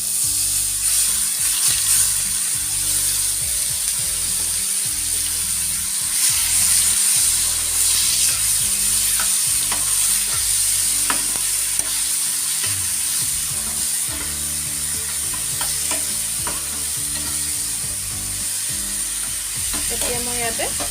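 A ground paste for pabda fish curry fries in a pan with a strong, sustained sizzle, broken by frequent stirring scrapes and spatula clinks, close and loud throughout.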